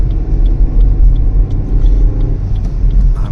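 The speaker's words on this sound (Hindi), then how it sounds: "हमने भी गाड़ी बहुत भगाई" Car driving fast on a mountain road toward Kalpa, a loud, continuous low engine rumble and road roar with faint ticking, steady throughout.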